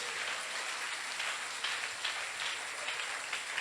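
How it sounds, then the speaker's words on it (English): An audience at a church sermon claps hands in a dense, sustained patter of applause that keeps going evenly for several seconds, heard at a moderate distance without speech. "Oh, you can clap your hands."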